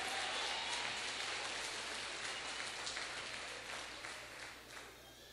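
A church congregation applauding during a sermon, a dense steady patter of many hands that gradually thins and fades toward the end.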